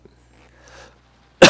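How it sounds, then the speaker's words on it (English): A single sharp, loud cough bursts out at the end, after near-silence with faint game engine hum during a group play session of the motocross racing game MX vs ATV Reflex. "I almost made it all the way through our group plays without coughing."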